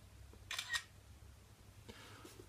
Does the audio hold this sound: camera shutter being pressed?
yes